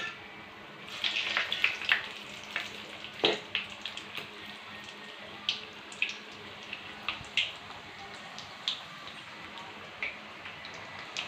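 Chana dal masala vadai frying in hot oil, a steady crackling sizzle scattered with sharp pops and ticks, close by and without talk.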